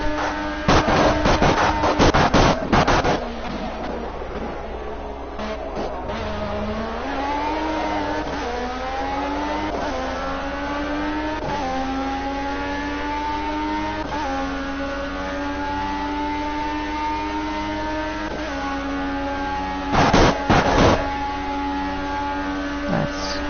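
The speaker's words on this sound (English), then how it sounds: "the god-awful nail on chalkboard sound of the car bottoming out" Race car engine in the video game Project CARS drones and revs steadily, with harsh bursts of scraping from the car bottoming out near the start and again toward the end.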